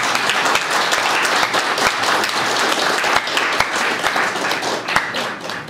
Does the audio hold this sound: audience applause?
yes